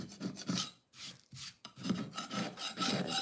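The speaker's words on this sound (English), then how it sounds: "And I'm just kind of scraping that up a little bit." Decoupage paper edges being scraped up on a craft piece, giving a series of rough, close rasping strokes in uneven bursts with short pauses between them.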